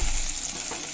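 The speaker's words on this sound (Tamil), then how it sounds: "நான் சும்மா வதக்கி கொண்டுட்டு முருங்கைக்காய் கத்திரிக்காய் மட்டும் வதக்குறேன்." Moringa drumsticks and brinjal sauté in a pan with a loud, steady sizzle and crackle, heard close and continuous with faint stirring and no voices.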